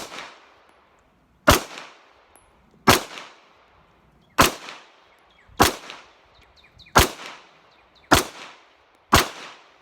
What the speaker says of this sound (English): there's just something about shooting these pistols that's totally awesome